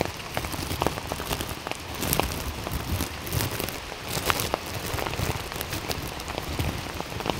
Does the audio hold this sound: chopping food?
no